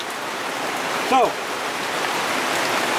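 Heavy rain pours down steadily in a constant, dense hiss that fills the whole stretch, with a brief voice cutting in once over it.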